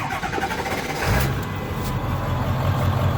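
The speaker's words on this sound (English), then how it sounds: "Now, I'm gonna start the truck." A Ford 7.3 Powerstroke diesel truck engine fires up after a brief crank and settles into a low, steady idle, heard from inside the cab with the door open.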